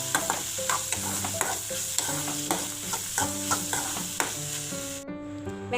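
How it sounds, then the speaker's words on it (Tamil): Onions and tomatoes sautéing in a pan for chutney, a constant sizzle with a spatula scraping and stirring in a steady repeating rhythm, close and fairly loud. "இந்த தக்காளியும் நல்லா வதங்கணும்."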